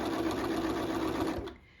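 A sewing machine stitches quilt binding in a steady, fast mechanical whir with a rhythmic needle chatter, close and clear, running continuously until it stops abruptly near the end.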